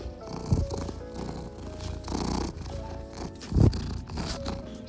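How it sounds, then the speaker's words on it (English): A cat purrs while lying on a lap indoors, a soft low rumbling close to the listener with a couple of louder bursts of rustling or shifting. "Speaking about Toast, she's currently on my lap purring. Can you hear her"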